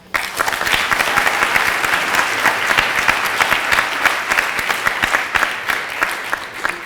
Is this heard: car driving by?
no